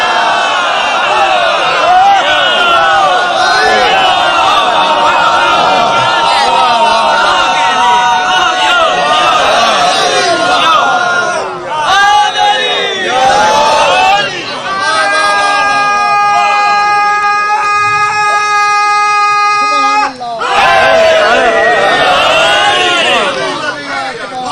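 A large crowd at a religious gathering chants slogans loudly and continuously, voices merging into a dense roar with a sustained chant-like passage in the middle.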